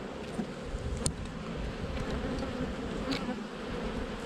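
Honeybees buzz steadily around a hive outdoors, a dense continuous drone of many wings close to the microphone with occasional louder passes of single bees.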